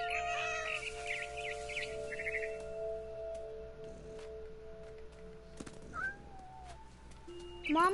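Cat meows in the video game What Remains of Edith Finch: a few short, clear mews near the start over a steady droning game ambience, then quieter chirps and a sharper cry at the end.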